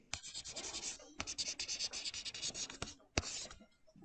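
Pen writing on paper for a cash budget sum, quiet close scratching strokes in short uneven bursts with a few sharp taps, no voices.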